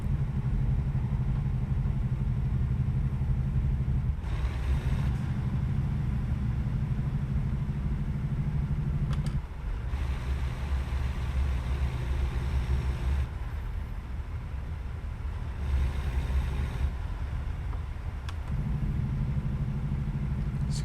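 A semi truck's diesel engine in American Truck Simulator drones steadily at moderate loudness, with the engine brake's lower rumble coming in for stretches between shifts on a mountain road.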